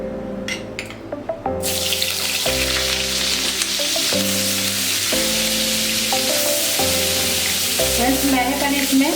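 Whole spices hit hot oil and butter in a pan with a few clinks, then erupt into a loud, close, continuous sizzle that persists with occasional stirring scrapes.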